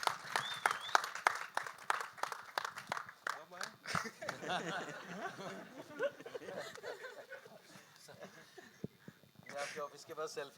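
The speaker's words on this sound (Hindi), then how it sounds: "ऑफ कोर्स रोहित सर के लिए एक बार जोरदार तालियां हो जाए" Audience applause at a film trailer launch event: a burst of clapping from a crowd, loud and close at first, then thinning out under a host's talk and some laughter.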